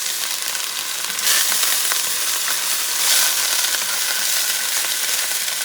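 Sofrito sizzling and frying in a hot pan while making rice with shrimp, a steady bright hiss with occasional stirring scrapes, loud and close with no talking.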